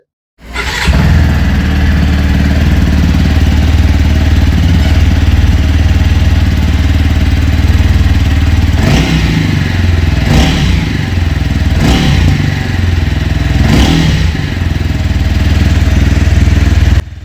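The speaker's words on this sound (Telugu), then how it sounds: "సో ఒకసారి ఈ బైక్ ఎగ్జాస్ట్ నోట్ అనేది వినిపిస్తాను." A TVS Apache RTR 200 4V motorcycle idles loud and close, its steady exhaust burble broken by several sharp throttle blips, alone without talk.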